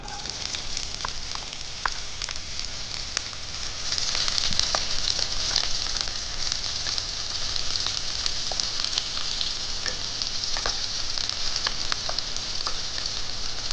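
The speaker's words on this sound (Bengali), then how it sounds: "গ্যাসের ফ্লেমটাকে হাই করে পেঁয়াজটা আমি ভেজে নিচ্ছি।" Chopped onion fries in hot mustard oil in a wok over a high gas flame, giving a steady, fairly loud sizzle with scattered pops and crackles throughout.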